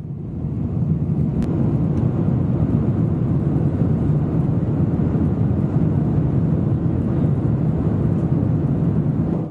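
Steady, loud low-frequency engine and airflow roar fills the cabin of a passenger airliner in flight from Auckland to Seoul, continuous and unchanging throughout with no talk.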